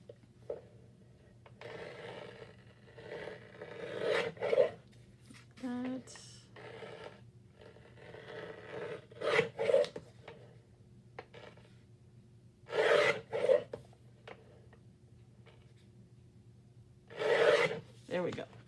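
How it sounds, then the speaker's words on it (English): A paper trimmer slices collage paper in several separate short rasping strokes, each a brief scrape a few seconds apart over a steady low hum, close and moderately loud. "for that I'm going to bring up my trimmer."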